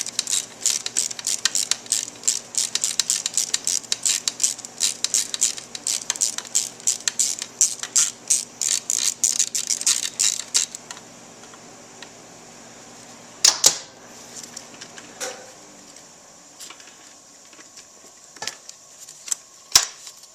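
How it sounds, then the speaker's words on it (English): A hand wrench ratchets an 8mm bolt loose from the engine case of a Kawasaki KX250F dirt bike, giving rapid, close clicking for about ten seconds, then a few separate metallic clinks and taps. "So just use an 8mm and remove this bolt here."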